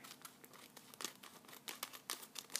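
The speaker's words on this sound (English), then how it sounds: "I'm just going to kind of cut the top with scissors" Crisp snipping and crinkling of paper cut with scissors, in quick irregular bursts, close up, with no talking.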